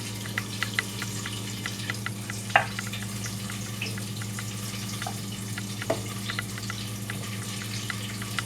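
Chicken legs fry in oil with a soft, steady sizzle and scattered pops and crackles over a low continuous hum. The sound is fairly quiet and close, with no talking.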